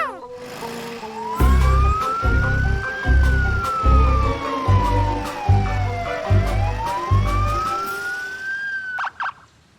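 Cartoon police car siren wailing loudly in a rising and falling sweep throughout, over a pulsing rhythmic beat, in an animated children's show about a bulldozer.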